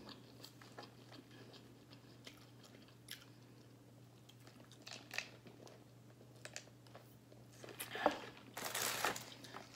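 Someone bites into a burger and chews it close to the microphone, soft wet crunches and smacking that grow louder toward the end over a low steady hum.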